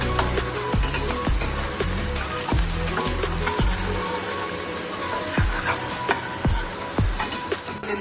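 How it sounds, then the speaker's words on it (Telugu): Onions with salt fry for paneer bhurji, a steady close sizzle punctuated by regular scraping and tapping strokes as they are stirred in the pan, with no talking. "ఇలా కలుపుతా మాడకుండా వేయించుకోండి"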